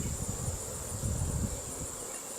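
Honey bees hum in a continuous, close drone while a beehive is opened and its frames are inspected, with faint rustling beneath.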